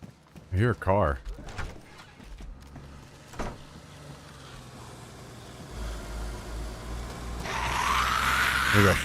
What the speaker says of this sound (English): I hear a car.